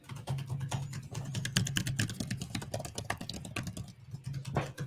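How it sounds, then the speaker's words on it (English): Rapid, close clicking of keys on a Samsung Galaxy Tab S7 keyboard cover, a quick uneven run of taps filling the whole stretch. "Is the keyboard cover clicky?"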